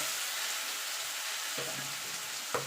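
Spinach curry sizzles in a pan with a soft, continuous frying hiss, and a couple of brief stirring scrapes come near the end.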